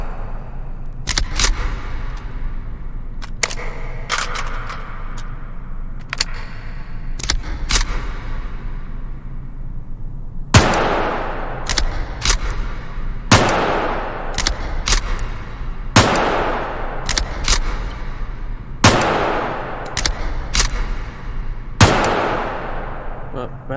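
A Russian ADS amphibious rifle fires a series of sharp, loud shots, first single spaced reports and then a quicker string of blasts, each followed by a ringing echo outdoors.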